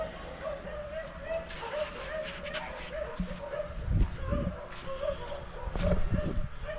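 A dog lets out soft whimpers and a few short, muffled barks close by, over a low background hum.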